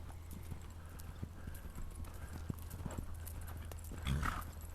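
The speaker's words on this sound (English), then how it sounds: "see if you can just pick up the lope right into it" A horse loping in an arena, with a steady run of soft hoof thuds over a low rumble, fairly faint throughout and a brief louder scuffle near the end.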